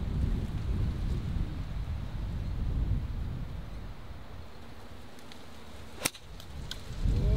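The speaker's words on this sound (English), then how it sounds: "Again, very windy today." Strong gusts of wind on a golf course rumble and blast against the microphone in a continuous low roar, easing briefly before surging again, with a sharp click near the end.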